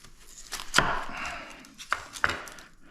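A knife chops through a whole onion on a cutting board, with a few distinct, close, sharp strikes separated by pauses.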